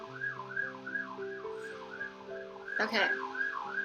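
A siren passes on a city street outside, its wailing tone sweeping up and down steadily and fairly loud, with a brief burst of noise near the end and a person speaking briefly.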